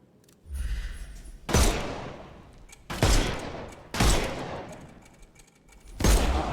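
Four loud gunshots crack out at spaced intervals as enemies' armor is shot off in a Sherlock Holmes video game, each blast followed by a long decaying echo, with no talking.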